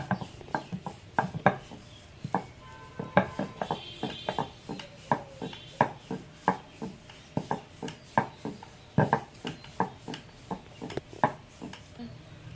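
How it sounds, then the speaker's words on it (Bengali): A rolling pin works thin gaja dough into a large round on a board, giving a steady series of soft, dull knocks and rubs with short pauses between strokes. "এইভাবে চাপ দিয়ে দিয়ে গোল করে বড় করে বেলে নেব।"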